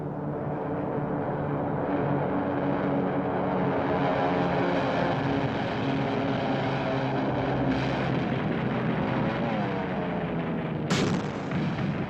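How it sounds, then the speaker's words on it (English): WWII torpedo planes and dive bombers roar overhead in a dense, sustained wash of engine noise, with heavy rumbling and a sharp loud crack near the end. "they launched whole squadrons of torpedo planes and dive bombers. 150 airplanes raced to strike back"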